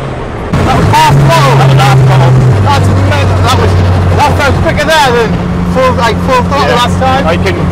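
A 540bhp Vauxhall Chevette sleeper car accelerates hard in third gear from inside the cabin, its loud engine drone stepping up in pitch while people talk excitedly over it.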